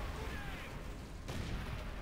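Gunfire in the World War II shooter game World at War during a co-op tank battle, with rumbling booms and scattered shots under a noisy battlefield bed, fairly faint.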